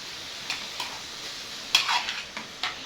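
Meat frying with onions in a pan sizzles steadily while being stirred, with a few soft scrapes and clicks of the utensil against the pan, close and moderately quiet.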